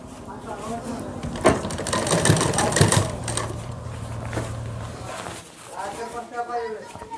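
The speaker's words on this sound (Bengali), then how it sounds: "এখানে আমি সেলাইটা শুরু" A sewing machine stitches the fabric of a shirt, whirring in a steady fast mechanical rhythm close by before stopping, while a person talks over it.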